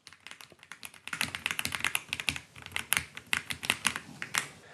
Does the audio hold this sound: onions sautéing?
no